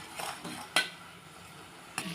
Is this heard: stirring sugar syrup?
yes